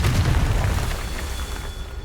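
A fiery Confringo spell blast in the video game Hogwarts Legacy, a single heavy low boom that rumbles and slowly fades, loud and close with no talk.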